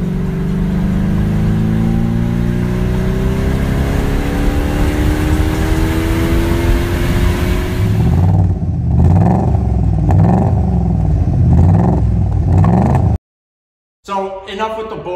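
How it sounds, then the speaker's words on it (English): A 30-year-old BMW 540 V8 engine revs up in long rising sweeps, then blips repeatedly in quick bursts, loud and close, before cutting out abruptly. "The 540 is a V8 and it sounds really, really good. Take a listen."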